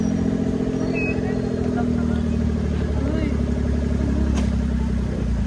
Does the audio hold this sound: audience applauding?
no